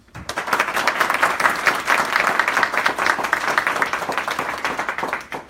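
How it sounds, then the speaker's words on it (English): A crowd at a veterans' celebration breaks into loud, sustained clapping that starts abruptly and stays strong and dense throughout. "one more round of applause for our veterans"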